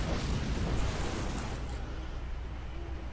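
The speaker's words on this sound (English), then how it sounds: "At least the resulting explosion will take some with it." A Shenlong vehicle driven into a minefield in the strategy game Rise of the Reds goes up in a loud, sustained explosion, a broad roaring rumble that stays dense and gradually dulls.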